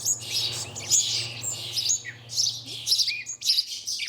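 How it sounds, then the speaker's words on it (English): Chaffinches and sparrows chirp in busy overlapping bursts of short, bright calls, close and fairly loud against a low steady hum. "These chaffinches and sparrows are greedy little customers."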